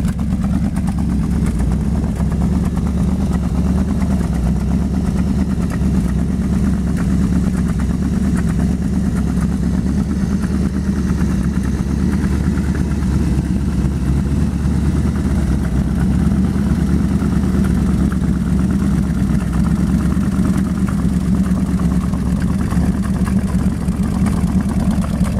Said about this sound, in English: let's take a look at the engine here. Might as well do it with it running.